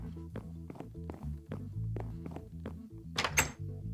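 Knocking on a door in Minecraft: a series of blocky thunks and taps in an uneven rhythm, fairly close, followed by a brief scraping burst near the end.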